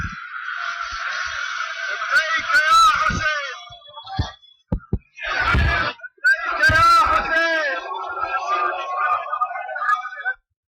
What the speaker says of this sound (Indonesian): Mereka teriak seperti itu.